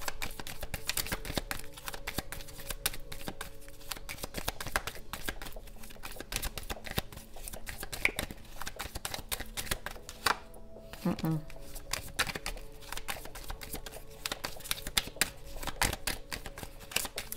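Tarot cards are shuffled in a rapid, continuous riffling patter, close up, with faint talk in the background.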